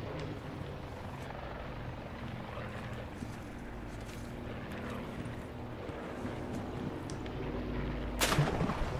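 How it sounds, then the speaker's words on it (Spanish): Helicopter flying overhead in the battle royale video game Blackout: a continuous rotor and engine rumble, moderately loud and steady, swelling slightly near the end, with a sharp transient toward the close. "Hostia, un helicóptero, el helicóptero, el helicóptero."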